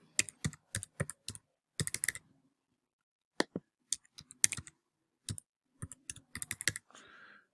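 A password is typed on a computer keyboard: close, crisp keystroke clicks in short bursts separated by brief pauses, ending with a soft rustle.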